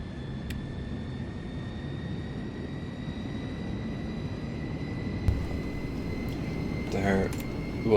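A NAMC YS-11 turboprop airliner in Microsoft Flight Simulator 2024 gives a steady engine drone with a constant high whine, and a brief voice is heard near the end.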